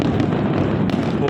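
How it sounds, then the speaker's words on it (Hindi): Fireworks bursting over Old Dubai near the Al Seef spice bazaar, a steady dense crackle of explosions with sharper pops, loud and continuous, with crowd voices blended underneath. "खूबसूरत आतिशबाजी का मंजर।"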